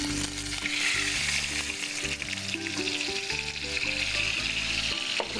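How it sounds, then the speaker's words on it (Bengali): Spice paste sizzles and spits steadily in hot ghee, a loud, continuous frying hiss up close with faint clinks of stirring and no talking. "প্রথমে এটা ওই ঘিয়ের উপরে মশলাটা দেওয়া হবে"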